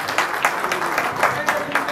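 Audience applause at a public gathering, a steady wash of clapping from a crowd, moderately loud and continuous, with speech also present.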